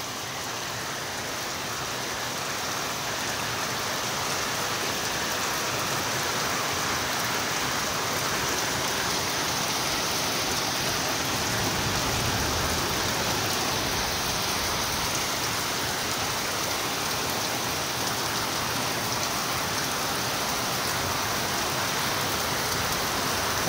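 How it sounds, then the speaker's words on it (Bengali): Heavy rain pours steadily outdoors, a dense, unbroken hiss of drops on surfaces that holds at an even, loud level throughout with no voices. "প্রচণ্ড বৃষ্টি হচ্ছে, প্রচণ্ড"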